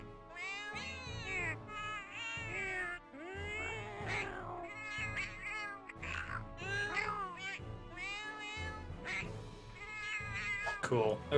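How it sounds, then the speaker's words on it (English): Palico cat companion in Monster Hunter 4 Ultimate letting out a string of bright, wavering meows, about ten separate calls spaced through the stretch, loud and close over a low game-music backdrop. "You get to pick different cat voices?"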